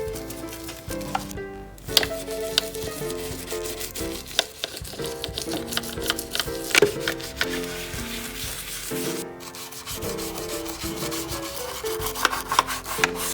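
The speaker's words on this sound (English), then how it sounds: "Let's continue to give this a thorough scrubbing to make sure all of the chocolate/dirt is gone." Scrubbing chocolate and dirt off a Y2K-era M&M's Rock'n Roll Cafe candy dispenser: a close, steady, rhythmic rubbing and scraping that runs throughout with small knocks, briefly pausing twice.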